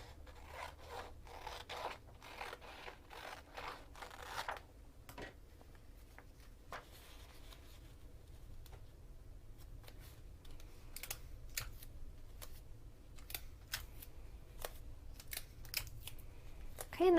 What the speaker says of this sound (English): I'm going to cut off the top margin on page 3.